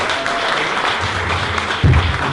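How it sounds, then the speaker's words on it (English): A room of guests claps steadily at a retirement programme, even applause at moderate volume with a brief low thump near the end. "Ladies and gentlemen, round of applause for Jan Wilson"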